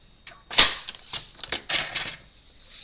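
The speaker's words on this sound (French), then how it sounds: "Maintenant on reprend notre massicot. Moi je fais tout au massicot." A guillotine paper cutter slices diagonally through card, giving a sharp chopping crunch followed by several shorter clacks and scrapes of the blade and lever, close and alone.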